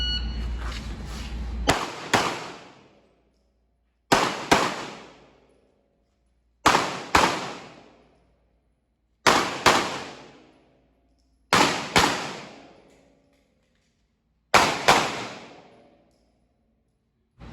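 Gunfire at gun club shooting practice, IDPA style: seven bursts of two close, sharp shots each, separated by pauses, every shot ringing out and decaying.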